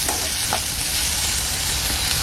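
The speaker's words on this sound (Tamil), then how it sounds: "நல்லா வதக்கிக்கணும்." Onions sauté in a pan for a Tamil-style chicken curry, giving a steady, close sizzle of frying with soft stirring scrapes throughout.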